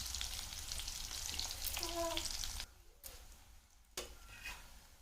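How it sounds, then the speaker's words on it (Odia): Chopped onion and a dried red chilli hit hot oil in a pan for a dried-fish and prawn curry, setting off a loud, steady sizzle that cuts out abruptly, falls quiet, then flares back up. "ତେଲ ଗରମ ହେଇଗଲାଣି, ଦେଖନ୍ତୁ। ଏବେ ମୁଁ ପିଆଜ ଦେଇ ଦଉଛି।"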